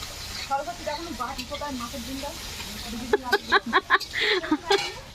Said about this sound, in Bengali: ওই যে হচ্ছে মাছের ঝাল, মানে মশলা কষানো হচ্ছে